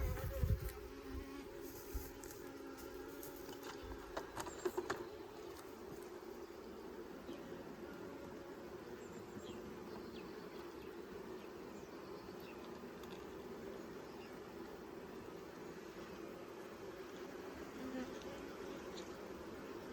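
Honey bees drone in a steady, dense buzz throughout an open beehive inspection. A few faint handling knocks come early, and the close swarm hum continues without pause.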